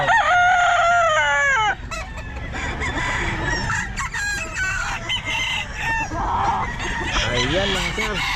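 Chickens and roosters at a crowded pet market cluck and crow, with a loud crow at the start followed by layered clucking and crowing amid busy market chatter and people talking.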